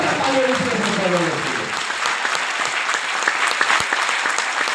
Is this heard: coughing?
no